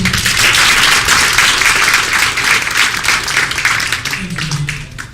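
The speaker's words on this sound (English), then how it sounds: "Let's give him the warmest applause" Dense, loud applause from a crowd fills the clip, steady then thinning slightly toward the end, with a voice briefly under it.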